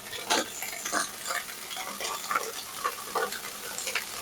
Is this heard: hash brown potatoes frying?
yes